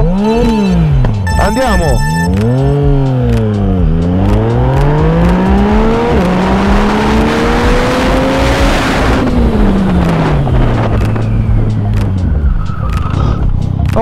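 A Yamaha MT-09 SP motorcycle pulls hard at full throttle from first gear, its engine note climbing through repeated rising sweeps as it shifts up, loud and close, with a rider's voice briefly speaking over it.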